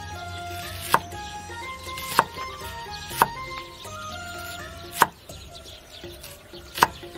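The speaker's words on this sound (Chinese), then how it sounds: "切点洋葱" A knife chops onion on a board while a Korean-style troop hotpot is prepared: five sharp, separate cuts at uneven intervals, close and crisp, over quiet background hum.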